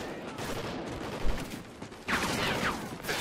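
Steady gunfire from Call of Duty: Ghosts crackles in a dense, mid-distance battle wash, with a thump and some whooshing effects layered over the shooting.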